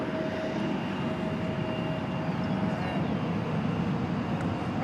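Airbus A319 jet arriving at DFW Airport on flight 2862 from Wichita, heard as a steady broadband engine roar with a faint tonal whine, continuous and fairly close, with no voices.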